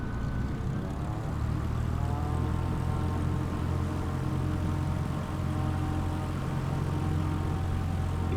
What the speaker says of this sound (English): He's off the runway. He's gonna go now.